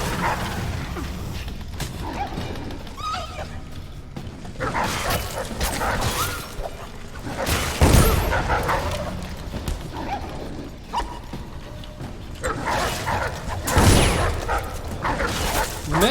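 Dogs barking in the stealth game Dishonored, several sharp loud barks and yelps in bursts amid scuffling combat noises and clanks, fairly close.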